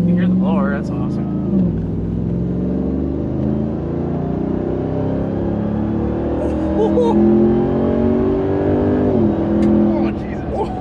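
A RAM TRX Hellcat pickup's supercharged engine idles and revs loudly up close, with a rising blower whine over the deep rumble while people talk excitedly throughout.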